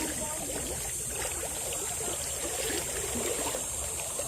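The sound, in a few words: river water sloshing while wading through mangrove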